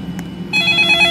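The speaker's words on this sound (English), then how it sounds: "I think I get a phone call now." A phone rings in the Roblox game The Gas Station Experience. A steady electronic ringtone starts about halfway through, with a low game ambience humming beneath it.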